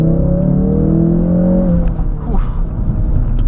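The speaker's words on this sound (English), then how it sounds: "Mostly you hear the induction noise, not a lot of exhaust note" A 2016 Ford Focus RS engine drones steadily from inside the cabin, induction noise dominating over a muted exhaust, holding a constant pitch before easing off as the note settles.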